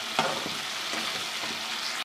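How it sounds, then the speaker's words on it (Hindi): Spices frying in a pan for a chana dal and purslane curry, a loud steady sizzle close by with faint stirring scrapes, no talk. "1-2 मिनट मज़ीद भून लेते हैं हम ताकि मसालों की खुशबू अच्छी तरह से आ जाए।"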